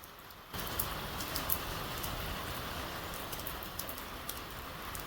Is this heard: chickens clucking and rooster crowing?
no